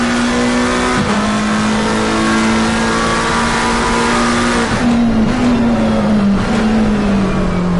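McLaren 720S GT3 race car engine in a racing video game at Laguna Seca, a loud sustained drone with gear shifts and rising and falling revs, a brief tire squeal, no talk.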